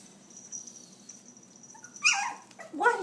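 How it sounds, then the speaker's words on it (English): A dog gives two short, sharp barks near the end, after a quiet stretch with faint background hum. "What are you barking at?"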